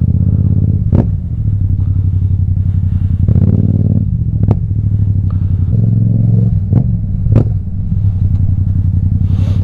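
A motorcycle fitted with a new exhaust muffler idles with a steady, loud rumble and blips its throttle in several sharp revs, close to the microphone.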